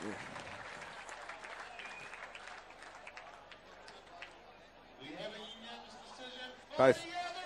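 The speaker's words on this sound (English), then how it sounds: "Let's give him a round of applause, folks." Crowd applause and chatter at a Muay Thai fight night in Mt Maunganui, New Zealand, cheering fighter Sean Skinner; clapping runs under a ring announcer's voice, with a brief loud burst near the end.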